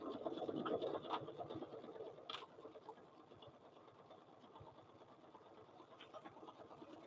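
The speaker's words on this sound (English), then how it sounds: "So we're going to do a straight stitch on both these sides" A sewing machine runs a straight stitch, a quiet rapid needle patter with a soft mechanical whir, slowing slightly partway through.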